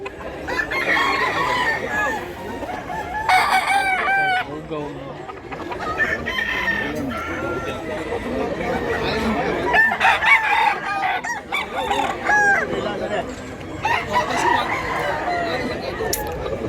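Several roosters crow repeatedly, some near and some farther off, amid clucking chickens and a busy farmyard background in Mantalungon, Barili, Cebu.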